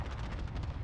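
Video game cluster strike going off as a dense, continuous rumble of overlapping explosions, loud and sustained with no clear gaps between blasts.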